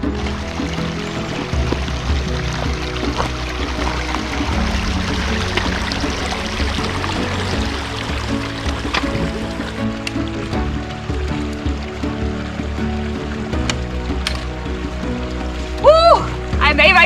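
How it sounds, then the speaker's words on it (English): Water flows steadily over the Sespe Creek river crossing on a backpacking trail, a continuous close rushing wash that runs throughout with a brief splashy burst near the end. "So we found our first river crossing."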